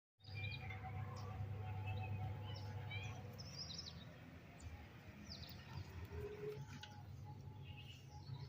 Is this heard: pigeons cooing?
yes